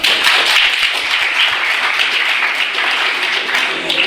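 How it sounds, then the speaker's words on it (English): An audience at a positive-thinking talk at Vignan Bharati Institute of Technology claps loudly and briskly for about four seconds, a dense and even burst of hand claps. "Give him a clap."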